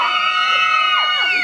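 A crowd at a family birthday party with a mariachi band, cheering and whooping in a loud, continuous roar of voices with rising shouts.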